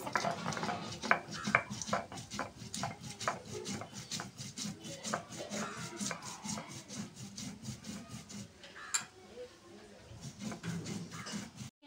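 Cardamom and cumin ground by hand on a stone slab (pata), a steady run of rough, gritty rubbing strokes in a quick back-and-forth rhythm, close and fairly quiet, going on for several seconds.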